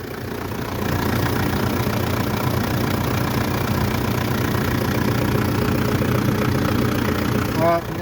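A Mitsubishi Pajero/Montero engine idles with a steady, close rumble that starts after a moment and holds evenly, with a brief rise near the end. Someone talks over it.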